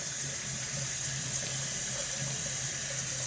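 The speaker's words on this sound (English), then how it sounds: "A little cold water on the face" Cold tap water runs into a sink for rinsing the face after a shave, a steady close splashing stream with no pauses and no talking.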